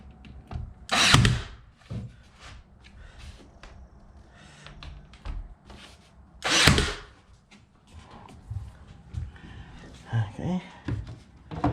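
Pine trim pieces tacked into interior window trim during a playhouse build: two sharp, loud bursts about five seconds apart, surrounded by quieter knocks and handling noises.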